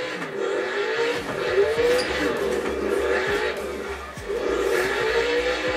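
A car drifts in practice for a drift championship, engine revving steadily while tires squeal and skid in long wavering wails, with voices talking over it throughout.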